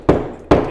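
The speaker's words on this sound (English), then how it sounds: "sometimes the end of your 5-in-1 or your putty knife, if you just hammer them in," Two sharp knocks about 0.4 seconds apart as the end of a 5-in-1 tool or putty knife is hammered against a wall anchor in drywall, close and loud with no talk.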